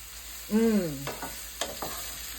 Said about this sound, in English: I'm just going to saute that a little bit in here